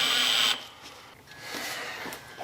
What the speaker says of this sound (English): I didn't think that drill was going to have enough oofta